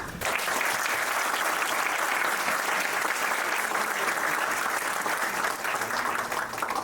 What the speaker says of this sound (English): So please join me in a round of applause to thank them